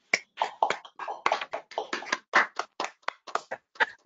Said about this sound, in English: I think we'll end with a big round of applause for everybody.